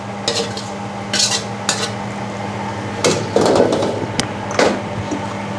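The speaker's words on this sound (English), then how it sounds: "And you stir one more round." Seafood hor mok with sweet basil stirred in a pan, a spoon scraping and tapping the pan in close, irregular strokes with a few louder clanks.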